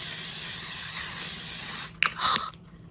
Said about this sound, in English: We're going to lock her in with the L'Oreal Paris Inflammable Makeup Setting Spray